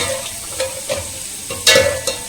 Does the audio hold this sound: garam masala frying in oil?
yes